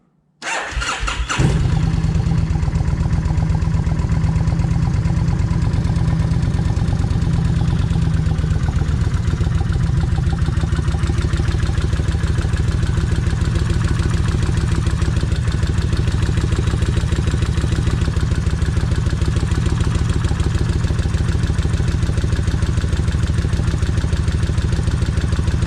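Kawasaki Vulcan 1600 motorcycle engine starting after an oil change with an oversize drain plug, catching quickly then settling into a loud, steady idle with a persistent mechanical rattle for the rest of the time, no voices.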